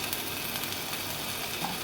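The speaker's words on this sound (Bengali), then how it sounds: "আদা রসুনটা ছিটকাচ্ছে" Ginger garlic paste sputtering in hot oil in a pan, an even, dense crackling hiss that runs on without pause.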